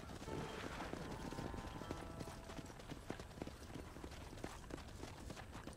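Steady, fairly loud hoof clip-clop from a horse trotting in Red Dead Redemption on Xbox 360, continuous rapid beats over a dense game soundscape with no speech.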